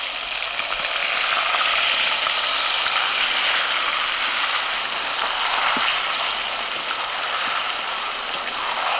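Marinated chicken goes into hot oil with fried whole spices for biryani, giving a loud, steady, broadband sizzle that holds evenly with no talking.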